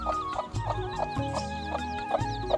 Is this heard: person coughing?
no